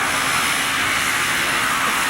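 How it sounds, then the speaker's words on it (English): A jump plane that carries skydivers passes over an airshow crowd, its engine a loud, steady broadband roar that fills the whole moment without letting up. "the plane that's going to transport our jumpers comes by"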